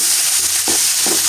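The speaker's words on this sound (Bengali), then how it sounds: "এখন পেঁপে ভাজির জন্য পেঁপেগুলো দিয়ে দিলাম।" Pieces of papaya frying in a small amount of oil for bhaji, a constant close hiss with two quick scraping stirs of the spatula.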